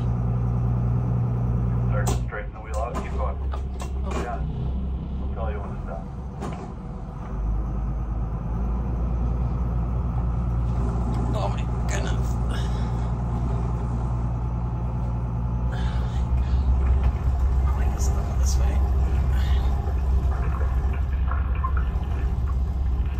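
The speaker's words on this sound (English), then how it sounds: "right now I'm going in reverse at 1200 RPM to get all of the mud off" A boat engine running in reverse at 1200 RPM at an anchorage, churning water to clear mud, a steady low rumble with water wash throughout and a person talking over it.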